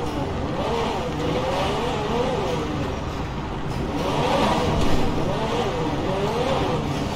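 A lime green Lamborghini SJ drives in GTA 5, its engine droning steadily and rising and falling in pitch as it accelerates, loud and continuous under background game noise.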